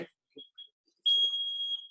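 A sparring round timer at a Brazilian jiu-jitsu adult fundamentals class sounds a steady, loud electronic beep that holds for most of a second, after a couple of brief faint chirps and a short bit of speech.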